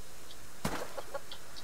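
A chicken in the survival video game Subsistence gives a single short cluck burst, followed by a few faint, scattered clucks in a quiet scene.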